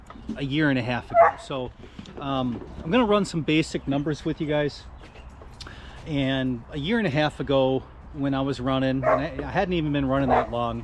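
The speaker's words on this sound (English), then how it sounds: "I'm sorry for the dogs barking in the background." Several dogs bark in the background, partly masked by someone talking steadily over them in the foreground.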